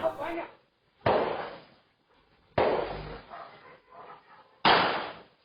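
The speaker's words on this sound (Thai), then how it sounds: "ลองฟังเสียงปืนนะฮะ ในขณะที่มีการดวลปืนเกิดขึ้นในหมู่บ้านครับ" Three loud, sharp gunshots from a gunfight in a village, spaced a second or more apart, each with a ringing decay, with muffled voices and noise in between.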